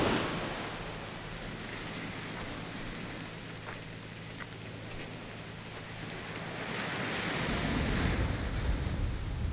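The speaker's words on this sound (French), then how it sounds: "Enfin c'est ce qu'on appelle la mer." Sea waves wash in a continuous broadband rush, with wind noise and a swell building louder near the end.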